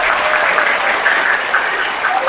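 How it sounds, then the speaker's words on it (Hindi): Loud, dense applause from a large audience at a Muslim business programme event, the crowd clapping for themselves in a steady, continuous roar of hands that stays strong throughout. "जोरदार तालियां हो जाए अपने खुद के लिए"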